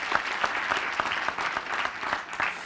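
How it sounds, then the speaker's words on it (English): An audience at the finals of a wood-themed building hackathon applauds, a lively patter of many hands with some sharper individual claps standing out, moderately loud and continuous throughout. "a big round of applause for Rightwood"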